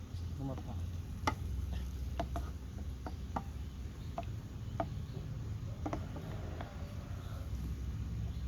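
Broccoli stir-frying in a pan with a steady sizzle and scattered scraping stirs and clinks, heard up close without speech.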